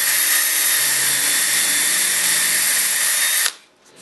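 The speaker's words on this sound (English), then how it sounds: "you want to use the fastest drill you have, because speed contributes to a clean hole when you're drilling in wood" A fast power drill bores a hole in wood with a loud, steady, high whine. It cuts off abruptly near the end, leaving near silence, and no one speaks.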